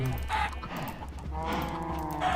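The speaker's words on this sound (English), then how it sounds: "it's going to allow the chickens to come out, and it looks like they heard us" Chickens cluck steadily on a farm with cows nearby, several birds calling over one another at close range with bursts of higher squawks.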